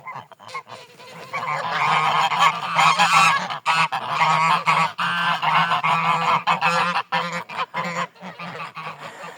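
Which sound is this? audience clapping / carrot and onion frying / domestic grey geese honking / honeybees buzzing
domestic grey geese honking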